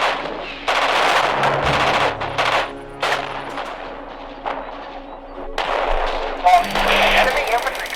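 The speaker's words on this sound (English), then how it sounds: "Charlie, fire barrage at location 3" Artillery barrage and gunfire in the Radio General war game, bursts of rattling fire and thudding impacts in uneven clusters, loud and close, with a voice speaking between the shots.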